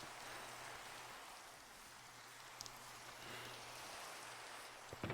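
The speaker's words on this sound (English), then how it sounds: "of course it starts raining." Rain falling in Minecraft, a soft, continuous hiss of drops spread evenly throughout, with a faint low hum beneath and a few small clicks near the end.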